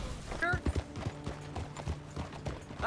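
Horse hooves clip-clop in a steady rhythm on a Red Dead Redemption 2 ride near a big bridge, close and moderately loud, with a voice talking over the hoofbeats.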